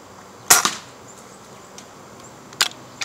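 A Crosman Legacy 1000 pellet rifle firing pointed pellets gives two sharp, close cracks about two seconds apart, with quiet outdoor background between them.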